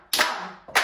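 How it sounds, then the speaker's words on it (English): Hands clap a crotchet rhythm, two crisp, close claps spaced evenly on the beat with a short ring after each. "So let's clap a crotchet."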